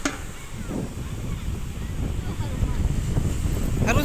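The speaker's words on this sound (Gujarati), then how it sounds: "પવન એવો મસ્ત આવે છે" Steady wind gusting across a seashore beside a partly submerged temple, a broad rushing roar that grows louder toward the end, with faint voices and splashes underneath.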